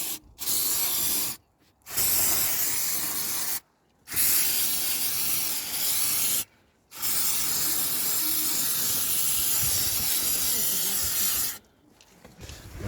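A Rover 45 air compressor hisses steadily in long loud bursts that stop and start several times, with short silent gaps between them and no voices.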